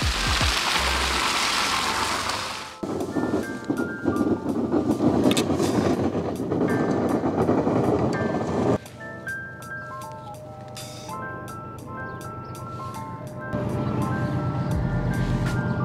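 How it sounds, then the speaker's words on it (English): A train rumbles past nearby with a steady, loud roar, shifting in tone partway through as the cars continue rolling by. "Now a train is coming by."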